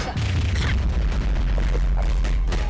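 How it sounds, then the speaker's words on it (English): Booming explosions from the beat 'em up video game Night Slashers Remake, heavy and very loud with deep rumbling low end, rolling continuously through the short stretch with scattered crackling bursts layered on top. "The explosions are really bad mixed. Like, it sounds super loud."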